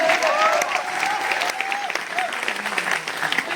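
Applause from an audience at a business seminar in India, a dense steady clatter of many hands clapping close by, with voices calling out over it.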